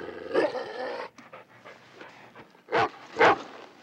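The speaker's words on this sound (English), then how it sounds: "Well, whose dog is that?" Dog in the 1988 horror comedy Elvira: Mistress of the Dark, panting, whimpering and giving a couple of sharp barks near the end, heard close amid film background sound.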